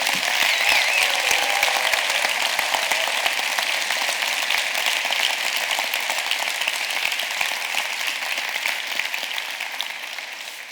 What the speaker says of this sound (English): So I'd like to give them a really, really big round of applause just for doing the effort.